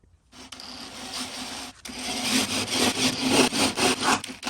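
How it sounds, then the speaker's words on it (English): A 3/8 drill bit grinds steadily through a CJ-2A Willys Jeep spare tire carrier mount at close range, its rough whirring rising in intensity with rhythmic pulses as the bit bites deeper. "Now use your 3/8 drill bit to drill out these holes bigger."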